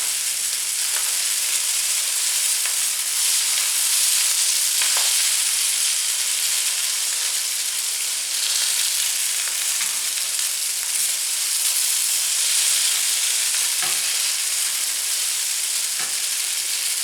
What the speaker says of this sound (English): We'll just stir this around until the greens wilt.